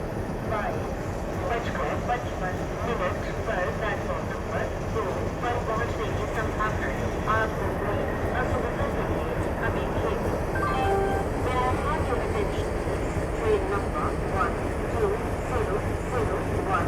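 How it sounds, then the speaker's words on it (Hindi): A WDG3 diesel locomotive from the NCR Jhansi shed idles and shunts slowly at Gwalior Junction on a cold day, its steady low engine rumble continuous throughout under a voice talking. "तो दोस्तों आप लोग देख सकते हैं डीजल लोकोमोटिव WDG3 है NCR झांसी लोकल शेड का।"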